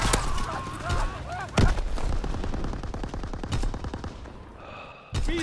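Rapid automatic gunfire in the Call of Duty: WWII video game, dense bursts of close rifle and machine-gun shots with a few heavier blasts, while shouted voices call out over the firefight.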